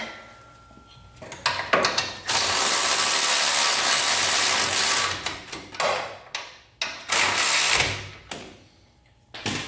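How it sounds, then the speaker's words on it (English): A wrench tightens a manual locking hub on a third-generation Toyota 4Runner, giving bursts of rasping, ratcheting clicks that come in uneven spurts with short pauses, close and fairly loud. "torque that down to 101 foot-pounds"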